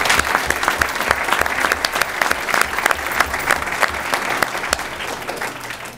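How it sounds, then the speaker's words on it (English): A room full of people at a school board of education meeting breaks into sustained applause for a Lego league team, the dense clapping lasting several seconds. "just maybe another round of applause for the great team"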